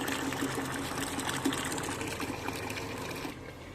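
Water pours in a continuous splashing stream onto washed clothes, fairly close and steady, then cuts off just before the end.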